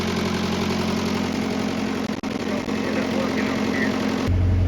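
Diesel engine of an International Harvester 574 tractor idling steadily and loudly up close, a continuous rough rumble with a brief dip partway through.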